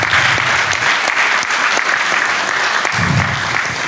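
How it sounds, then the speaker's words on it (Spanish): Applause from a university gathering audience, a dense, loud sustained clatter of many hands clapping for about four seconds, with a faint voice briefly underneath near the end. "Bien, un aplauso para ellos."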